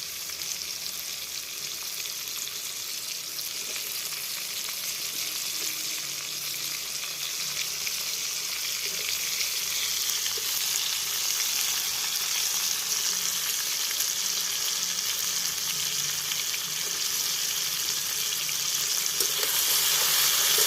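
Green chillies fry in hot oil for an olive pickle, giving a loud, continuous hiss and crackle that holds steady and grows slightly stronger toward the end.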